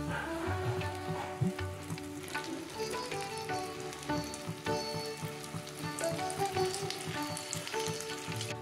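Pieces of rui fish fry in hot oil with a continuous crackling sizzle, close and fairly quiet, with faint utensil scrapes now and then and no talking.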